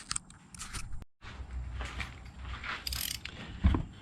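Ratchet wrench with a small extension working a spark plug loose on a car engine, giving repeated clicking bursts of pawl ratcheting with metallic handling noises, close and fairly quiet, with no talking.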